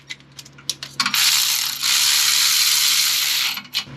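A ratchet clicks rapidly and steadily while bolts are tightened to secure the starter on a Nissan 370Z, preceded and followed by a few scattered metallic taps, close and loud.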